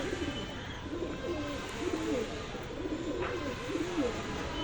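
Pigeons on a rooftop coo repeatedly in soft rolling calls while drinking water, over a steady low background hum.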